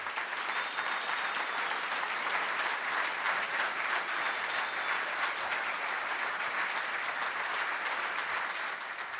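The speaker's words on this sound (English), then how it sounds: "I'd just like all board members to please stand and receive a round of applause" An audience applauds board members at a school readiness event, with dense, steady clapping filling the hall at an even level from start to finish.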